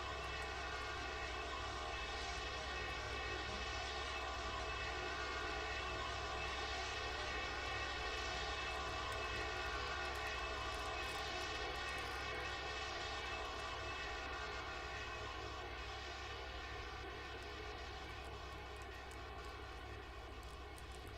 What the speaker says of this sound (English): It's a 707, isn't it? It's the 707 radar.